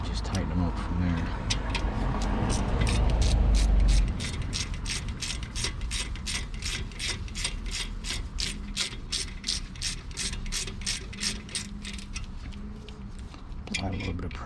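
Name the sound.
ratchet tightening Ford Escape brake caliper slide pins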